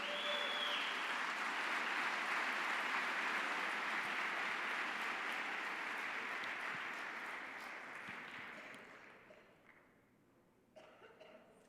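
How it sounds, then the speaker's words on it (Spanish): Church congregation applauding during a Spanish-language sermon, a dense steady wash of clapping that holds strong for several seconds, then thins and fades toward the end with a few scattered claps. "Dale un aplauso al Señor."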